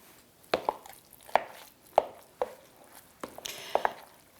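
Lasagna filling is mixed in a bowl, heard as a series of sharp, irregular knocks and clacks of a utensil against the bowl over quiet background.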